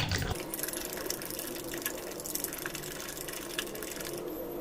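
Water pours into whisked curd for Telangana-style perugu pachi pulusu, a soft, close, continuous trickle and splash lasting several seconds at low volume.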